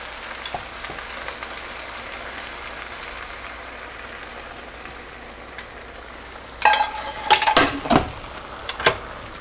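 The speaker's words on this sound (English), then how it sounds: "Now I'll add the rest of the chicken stock." Chicken stock poured over risotto rice in a frying pan: a soft, steady hiss and crackle for several seconds, then louder bursts of sizzling and clattering near the end.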